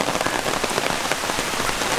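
Steady, dense rain patters on surfaces in a mountain park during the rainy season, a continuous close hiss of drops with no voices.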